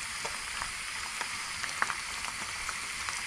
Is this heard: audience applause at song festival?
no